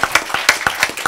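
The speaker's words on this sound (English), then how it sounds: "Let's give them a round of applause." A small audience gives a short round of applause for the helpers of an event program, with a few loud, separate hand claps heard close and crisp, without voices.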